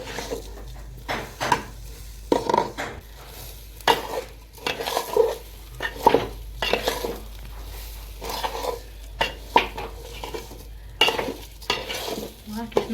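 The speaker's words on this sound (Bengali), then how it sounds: "ঘিয়ের সাথে এলাচ, দারচিনি, কাজু বাদাম, কিশমিশ ভালো করে একটু নেড়ে নেব চালটাকে" Rice is stirred in a pan with ghee, cardamom, cinnamon, cashews and raisins, a steady scraping and clinking of the spoon with soft sizzling underneath, loud and close throughout.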